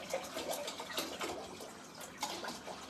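Purified water pours and splashes into a pot for boiling spaghetti, a close, steady trickle with a few brighter splashes, heard alone without talk.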